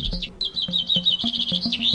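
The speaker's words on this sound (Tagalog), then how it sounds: "Kailan mo huling narinig ang mga huni ng ibon?" Small birds chirp and tweet in quick bright repeated notes, close and clear, with a faint low background murmur beneath them.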